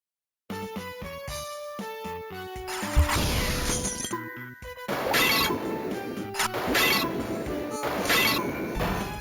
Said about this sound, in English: I really hate this stock smashing noise.